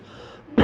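A single short throat-clearing cough from a preacher closes the clip. It comes after a quiet stretch of room tone.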